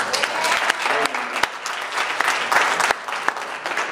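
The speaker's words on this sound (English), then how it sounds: "we'll give them some applause anyway" Applause from an audience at a church Sunday School awards ceremony, a sustained burst of clapping lasting several seconds with some sharper individual claps.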